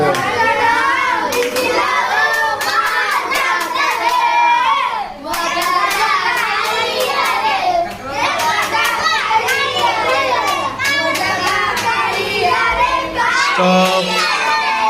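Audience hands clap in a steady, dense patter through a children's entertainment program, with kids' voices and chatter mixed in close by throughout.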